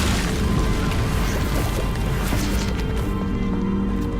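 A fire spell cast in Hogwarts Legacy, heard as a loud, dense roaring blast with crackling impacts that stays steady across the whole stretch, with no pauses.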